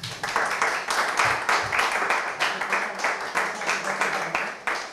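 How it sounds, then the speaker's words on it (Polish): Audience applause at the close of a Polish parliamentary-candidate debate, a steady wash of clapping from many hands that carries on without a break, moderately loud and filling the room. "Można klaskać."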